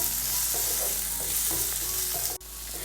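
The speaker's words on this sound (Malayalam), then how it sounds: "ഇത് രണ്ടും ചേർത്ത് കൊടുത്തതിന് ശേഷം വീണ്ടും നല്ല രീതിയിൽ ഇതെല്ലാം കൂടി ഒന്ന് വഴറ്റിയെടുക്കാം." Onion and tomato with ginger-garlic paste sautéing in a pan for a cauliflower pepper fry, a steady sizzle and frying hiss with repeated scraping stirs of a spoon throughout, close and continuous, no talking.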